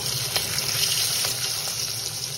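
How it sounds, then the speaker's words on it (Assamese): Local rohu fish sizzles steadily in a hot pan, a constant crackling hiss with small pops and no voices. "এয়া মাছখিনি ভাজি লওঁ এতিয়া।"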